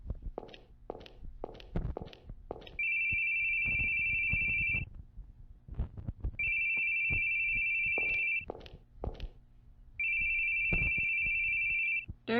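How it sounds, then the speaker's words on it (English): A cell phone in The Boogeyman horror video game rings in three long, steady electronic bursts, each about two seconds, loud and close, with quiet footsteps and thuds between the rings. "There's his cell phone."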